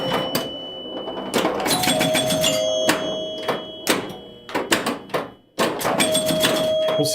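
Bell chimes and electromechanical clatter from an old Fire Queen pinball machine, sounding in repeated bursts with sustained ringing tones between sharp mechanical hits, loud and close.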